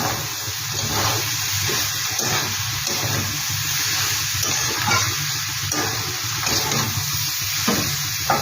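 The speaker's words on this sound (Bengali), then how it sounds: "এবার এটাকে ভালো করে আমি নেড়ে দিচ্ছি" A spoon stirs radish and prawn ghonto, a watery mix with released juices, in a pan, giving repeated rhythmic scraping strokes over a soft steady sizzle, close and moderate in level, with no voices.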